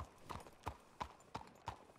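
Horse hooves clip-clopping in the video game Red Dead Redemption 2 on a WildRP server, five crisp, evenly spaced hoofbeats at a walking pace, fairly close against a quiet background.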